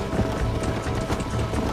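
A horse gallops in the video game Red Dead Redemption, its hooves pounding in a quick, continuous clip-clop rhythm, close and loud.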